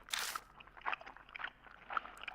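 Wet, squelching gum-chewing noises come through a phone in the horror video game Death Mark, a series of short irregular smacks and crunches, faint and close, with no voices.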